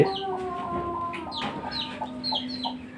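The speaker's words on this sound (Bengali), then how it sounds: "এই যে মুরগি, এই যে মুরগি" Chickens cluck repeatedly inside a poultry room on a farm, a steady stream of close, overlapping clucks and short calls with no one talking.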